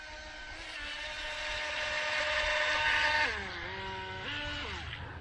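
The motor of a JJRC Spectre RC speed boat whines steadily and close, rising in pitch, then dipping and shifting twice as the throttle changes, with no talk.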